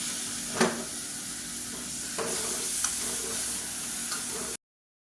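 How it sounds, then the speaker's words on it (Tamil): Blended onion paste and chili powder sizzle steadily in hot oil for a drumstick thokku, with a few sharp spoon scrapes against the pan over a continuous hiss that cuts off abruptly near the end. "இது எல்லாத்தையுமே லேசாக இந்த எண்ணெயில் வதக்கி விட்டுக்கலாம்"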